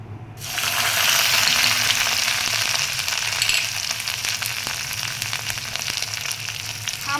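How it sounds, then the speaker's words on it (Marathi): Mustard seeds crackle in hot oil with cumin and ground masala, a loud, steady frying hiss scattered with sharp little pops that keeps going throughout. "मोहरी तडतडली की जिरे टाकू जिरे टाकून घेऊया"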